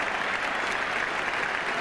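The crowd around Lord's cricket ground applauds a 100 partnership during a 1979 England versus Australia World Cup one-day match, a steady, distant wash of clapping from the stands.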